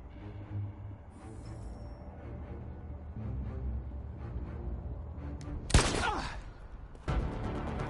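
A single sharp, loud gunshot rings out in Detroit: Become Human over a quiet droning ambient bed, followed about a second later by a second abrupt burst of sound.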